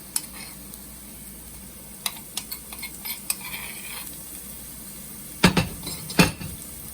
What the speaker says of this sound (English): And mix slowly. Make sure it doesn't burn.